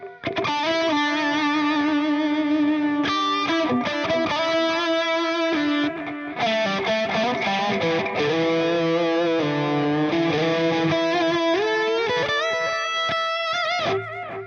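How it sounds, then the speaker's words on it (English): A Donner Telecaster electric guitar plays through a Yellow Fall analog delay pedal, with echo feedback and time controls. Sustained melodic notes and chords ring with trailing echoes, loud and upfront, and no one speaks. "The Yellow Fall is an analog delay, kind of simple and straightforward analog delay."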